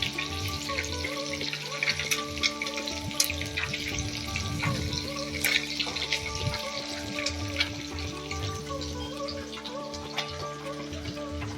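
Tilapia coated in turmeric, salt and red chili powder fries in hot oil, giving a steady, dense crackling sizzle that runs without a break and without talk.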